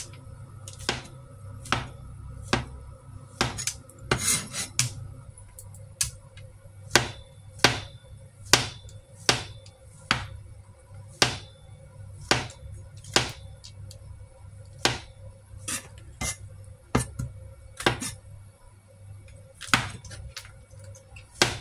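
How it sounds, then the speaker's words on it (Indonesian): A knife slices fresh enoki mushrooms on a cutting board in a kitchen, regularly spaced sharp chops, about one every second, over a faint background hum. "Jamur enoki atau jamur apa ya? Nah kita iris-iris dulu ya."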